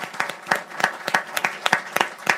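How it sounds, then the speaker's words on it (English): A small audience claps for Reverend Jackson at a voting rights gathering, with sparse, distinct hand claps coming in a loose, uneven rhythm at moderate volume for a couple of seconds. "Give Reverend Jackson a round of applause."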